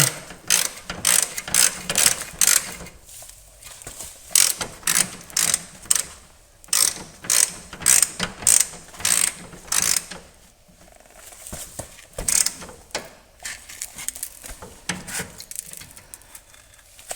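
A ratcheting wrench works on a power steering line fitting on a VW Golf mk4 TDI, giving rapid close metallic clicking bursts that repeat in short strokes with brief pauses between them.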